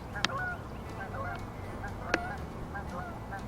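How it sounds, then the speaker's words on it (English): Geese honking outdoors near the water while setting a trot line, with two sharp, loud calls standing out over a steady background of fainter honks and outdoor noise. "Some geese."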